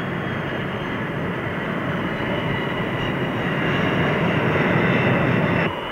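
Grumman carrier jet engine roaring at full power during an arrested landing aboard an aircraft carrier, a loud, steady broadband jet roar filling the whole stretch before cutting off abruptly near the end.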